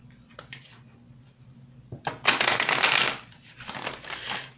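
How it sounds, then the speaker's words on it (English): Tarot cards being shuffled by hand: a few soft taps and riffles at first, then a louder burst of rapid papery flutter, a pause, and another shorter shuffling burst, close and dry. "so I'm going to shuffle one more time"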